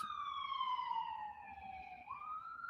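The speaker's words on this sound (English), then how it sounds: "You're running your siren for 5 miles." A wailing siren sweeps slowly downward then rises again, sounding somewhat distant over a low traffic rumble.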